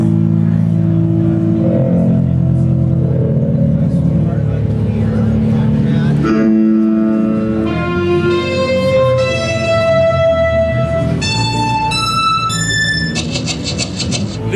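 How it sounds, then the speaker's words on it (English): A dense, blurred tone from a piano convolved with a voice singing "oh", mixing sustained vocal-like drones with piano notes that smear and ring into bright, shimmering overtones, loud and continuous throughout. "this is a convolution between a piano and a voice going"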